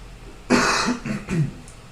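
A single person coughs and clears their throat in a few close, rough bursts during a chess game, with no talking.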